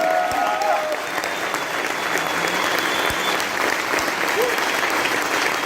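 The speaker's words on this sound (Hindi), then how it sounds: "एक बार जोरदार तालियां आपके लिए।" A summit audience in Delhi gives steady, loud applause, continuous dense clapping from a large crowd with faint voices mixed in.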